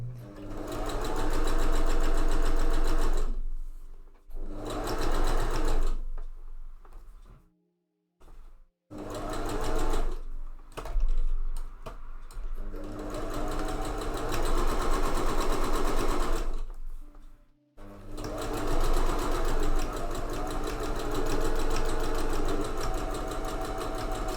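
A sewing machine runs in long stitching bursts through a corset mockup, stopping briefly several times with short silent gaps before starting again, close and loud.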